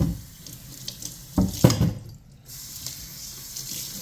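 Tap water runs into a kitchen sink while a fish is rinsed under it, a steady close splashing with brief louder gushes and a momentary dip in flow.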